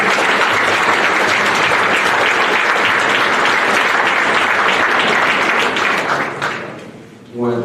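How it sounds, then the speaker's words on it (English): Guests at the Osbourn Park 2018 tip-off banquet give a guest speaker a loud, sustained round of applause that tapers off near the end before a voice starts speaking. "can we please give one more round of applause to our guest speaker"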